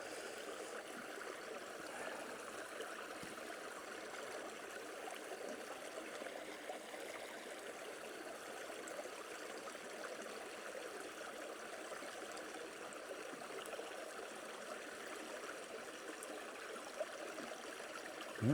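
Steady, quiet rush of creek water flowing over rocks in a cold, partly iced stream, a continuous broad wash with no voices.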